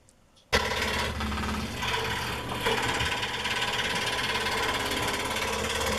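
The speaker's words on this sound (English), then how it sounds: "Then I cut that out for the backer board." A scroll saw cuts a plywood backer board for a wooden craft piece, its rapid reciprocating buzz starting abruptly and running loud and continuous at close range, without speech.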